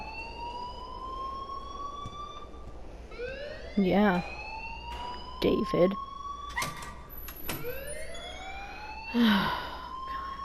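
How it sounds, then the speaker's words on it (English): A school alarm blares in the video game Life is Strange, a steady electronic tone holding over several seconds at moderate level while people talk over it in short bursts. "please turn off that alarm since that's your job"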